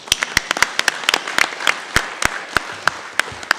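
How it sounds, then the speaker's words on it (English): Audience at a democracy summit giving a sparse round of applause, distinct individual claps from a small number of hands in an uneven, scattered rhythm, fairly close and crisp. "Let's all give them all applause."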